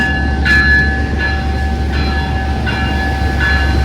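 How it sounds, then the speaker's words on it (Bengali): The Pikes Peak train in Colorado departs, rumbling steadily with a deep low drone and faint rhythmic wheel clacks, fairly loud and close, with no voices. "ছেড়ে দিল ট্রেন"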